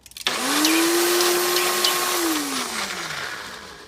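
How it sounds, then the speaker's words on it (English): A blender blending hemp seeds and water starts up and runs loudly with a steady whirring motor pitch, then slows and winds down near the end. "and then we're going to blend it"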